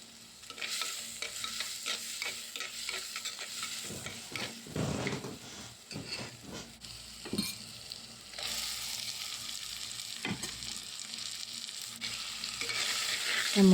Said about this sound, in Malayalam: ഒരു ഉള്ളി, അത് നന്നായിട്ട് വഴറ്റിയതിന് ശേഷം ഇനി തക്കാളി ഇട്ട് കൊടുക്കാൻ പോകുന്നുണ്ട്.